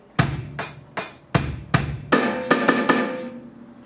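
A drum fill from bar 10 of a rock track, about eight sharp broadband hits with cymbal crashes, the later strokes coming faster and ringing out into a fading wash, played alone.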